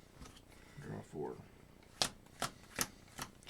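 Playing cards shuffled during a Keyforge card game: four crisp riffling snaps in quick succession, close and fairly loud, following a brief murmur of voices.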